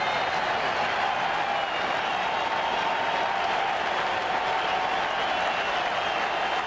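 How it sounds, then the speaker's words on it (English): A World Series baseball stadium crowd rises and cheers in a steady, dense roar that holds at the same level for several seconds, heard from a distance with no clear individual voices. "Crowd getting into it, standing up."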